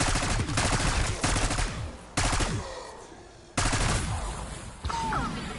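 Gunfire in Black Ops 6 Zombies on PS5: loud bursts of rapid automatic fire in several separate volleys with short pauses between, close and alone.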